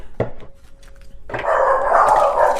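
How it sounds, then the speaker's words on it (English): Several dogs barking in the background indoors, a short sharp bark early on followed by a sustained loud burst of overlapping barking that fills the rest of the clip. "Please ignore my dogs in the background."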